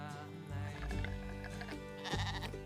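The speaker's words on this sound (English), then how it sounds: "We've got some noisy neighbours, the sheep are just up over there." Sheep bleating nearby on a countryside camping trip, a couple of loud, wavering bleats one after another, with little else around them.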